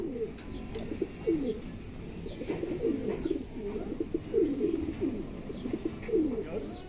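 Racing pigeons of a foreign bloodline cooing close by in a loft. Low, repeated, rhythmic coos come steadily over several seconds against a quiet background.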